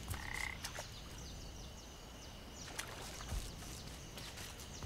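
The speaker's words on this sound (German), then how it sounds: "Wir brauchen den Frosch für die Rohre, klar." A frog croaks in the video game PaPo & Yo amid a continuous watery game ambience, with a short burst of croaking near the start and faint scattered clicks later; no speech.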